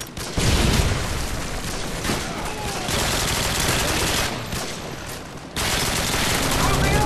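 Rapid bursts of automatic gunfire in the video game Modern Warfare 2, loud and continuous, with brief pauses between volleys and a dense, crackling rattle throughout.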